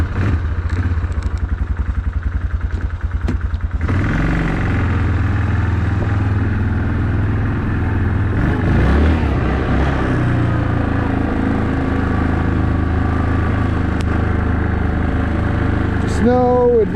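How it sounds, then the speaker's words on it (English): A Yamaha Wolverine 450 side-by-side drives through snow, its engine chugging steadily and loudly close by after a rattly start, with a voice speaking over it at moments. "We're gonna take the Wolverine out, and we're gonna head back out by the river"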